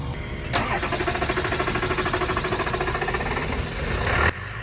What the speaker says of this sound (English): this is our first time getting it to turn over, but it sounds like crap still